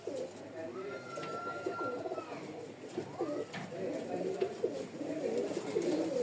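A pair of Tiger breed pigeons, a hen in front and a cock behind, coo in soft repeated rolling phrases close by, with a person talking over them.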